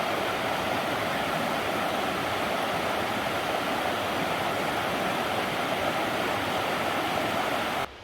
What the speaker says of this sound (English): we'll follow this creek for a little while